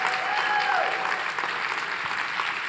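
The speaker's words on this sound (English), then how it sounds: "that's the most applause we've ever gotten in our lives" An audience at a women's sports leadership keynote breaks into steady, enthusiastic applause for Generation X, a dense clapping wash lasting a few seconds.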